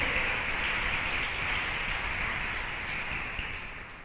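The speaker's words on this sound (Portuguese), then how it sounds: "aplauda ao Senhor Jesus" A church congregation applauds during a Portuguese-language worship service: dense, steady clapping from many hands fills the room evenly, easing off slightly at the end.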